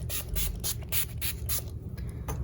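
Wet n Wild Cucumber 3-in-1 primer water setting spray is misted in a quick series of close, crisp hissing pumps, roughly seven or eight bursts in a row, with no talking.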